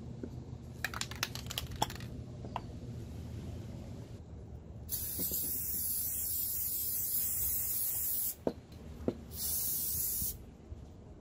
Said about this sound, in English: we're gonna go ahead and we're gonna spray it with some Loctite